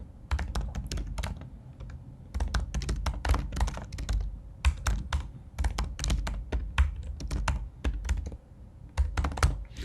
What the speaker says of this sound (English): Just simply type